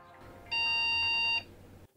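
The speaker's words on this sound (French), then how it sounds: "on vient d'avoir un bip qui dit que le NAS vient de démarrer" A single steady electronic beep from an Asustor AS5404T NAS signalling it has finished starting up, loud and close, lasting under a second over a quiet room hum.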